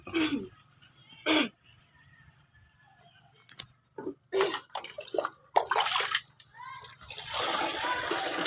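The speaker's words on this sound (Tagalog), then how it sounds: "lalagyan ko na po ng tubig. Bali 16 liters po ulit yan." Water is poured and splashes into a 16-liter plastic sprayer tank in irregular bursts, sometimes a steadier gushing stream, with quiet gaps and faint background sounds between pours.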